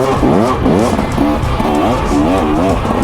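A 2023 KTM 300 XC two-stroke dirt bike is ridden close by, its loud engine note repeatedly rising and falling in pitch as the throttle is worked, with no speech over it.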